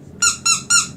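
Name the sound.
squeaky dog toy squeaking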